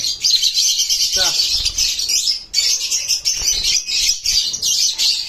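Pet birds kept for sale chirping and tweeting continuously in high, overlapping calls, close and loud, with a brief low voice murmuring underneath.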